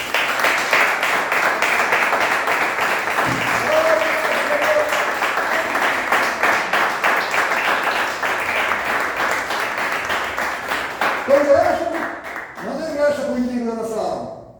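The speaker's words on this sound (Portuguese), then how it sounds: "Dá uma salva de palmas para o Senhor" A congregation at a church service claps in a long, dense, continuous round of applause that slowly thins. A voice starts speaking near the end.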